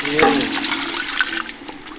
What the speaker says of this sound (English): 8 cups of broth. Slowly add it